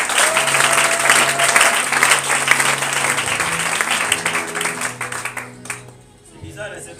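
Congregation at a church service applauding and cheering loudly in praise of the Lord, dense steady clapping for about six seconds before it thins out and fades.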